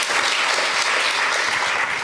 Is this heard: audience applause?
yes